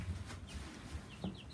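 Young chicks in a backyard chicken coop and run give faint, brief chirps and soft clucks amid low background noise.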